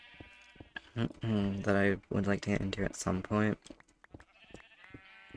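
A Minecraft sheep bleats in a few wavering, drawn-out calls close up, under and between a man's speech, with game background clicks.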